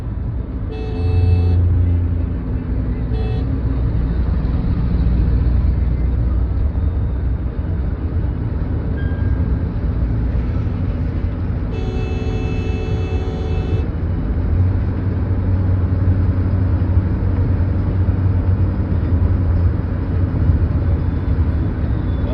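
A car cruises at about 107 km/h along Kanjhawala Road on the way from Delhi to Rohtak, a steady, loud rumble of engine and road noise throughout, with a couple of brief tonal sounds on top.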